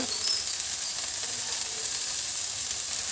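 Tender spinach leaves fry in a pan, producing a steady close sizzle with light crackle throughout the short stretch and no talking.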